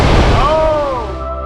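Atlantic Ocean waves crash at Otter Point in Acadia National Park, Maine: a loud, close surge of surf that slowly fades and washes out, while an excited voice whoops and cheers over it.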